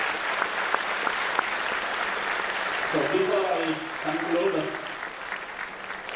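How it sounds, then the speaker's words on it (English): Audience applause at a school annual day event, a dense, even wash of clapping throughout, with someone speaking over it in the second half. "please give a round of applause for all"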